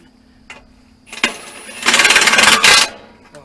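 An impact gun with a socket tightening a nut on farm equipment, a short rapid hammering burst of about a second after a few clicks and a spin-up, close and loud.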